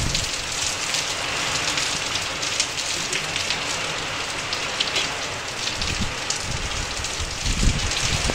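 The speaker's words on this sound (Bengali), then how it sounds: "কিন্তু বৃষ্টি কিন্তু হচ্ছে" Rain falls outdoors on a windy day, a dense, steady hiss of drops close by with a few soft low thumps and gusts, continuous and fairly loud across the whole stretch.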